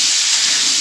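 Potatoes and pumpkin fry together in a pan, giving off a continuous close, loud hissing sizzle.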